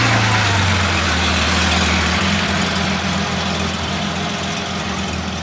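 A yellow original Porsche Carrera RS passes at Car Week 2022, its engine a loud, close, continuous drone with a falling, shifting low pitch and no talking.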